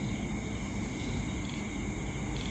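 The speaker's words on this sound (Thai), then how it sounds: "มันจะเป็นตัวจิ้งหรีดนะครับทุกท่าน" A pet cricket kept in a can chirps steadily, a continuous high-pitched trilling over a low, rumbling background hum.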